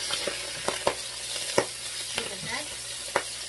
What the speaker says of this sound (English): we can now mix the pork belly and see.